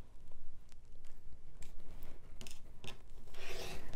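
Scissors cutting flannel fabric squares for a rag quilt, a steady close run of rasping snips and rubbing fabric noises continuing without talk.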